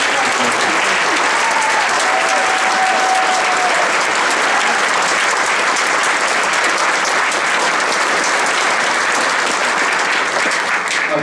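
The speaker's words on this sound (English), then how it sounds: "Let's have another round of applause for" Sustained, loud applause from a concert audience at a 2018 Christmas concert, a steady wash of clapping that holds evenly throughout.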